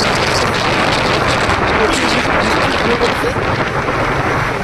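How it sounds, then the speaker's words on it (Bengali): Heavy rain pours steadily on a street in the morning, a dense, loud, unbroken wash of noise that fills the whole stretch without pause. "এখন প্রচুর বৃষ্টি। দেখো বৃষ্টি পড়ছে"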